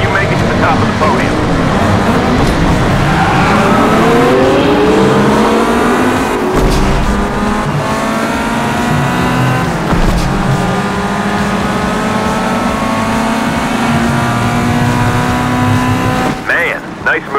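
Race cars roar and accelerate in the GT Racing 2 mobile game, with engines climbing through rising gear sweeps, loud and continuous, overlaid by a game voice.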